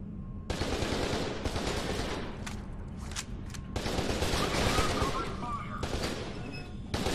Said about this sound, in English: Stop shooting. Stop shooting.